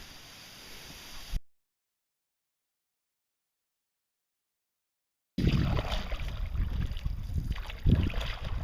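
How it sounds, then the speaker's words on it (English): Wind gusting outdoors around a canoe on a wild rice harvesting trip, a rushing, buffeting roar against the microphone, briefly before a silent gap and then louder and steady afterward. "hopefully you can hear me over the wind here"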